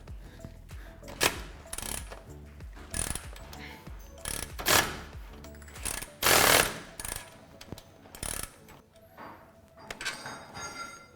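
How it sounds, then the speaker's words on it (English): A socket and wrench work loose the lower shock bolt on a 2020 Jeep Gladiator during a lift kit install, giving close metallic ratcheting and clanking in uneven bursts with a few sharp louder knocks. "Then using an 18mm socket and wrench,"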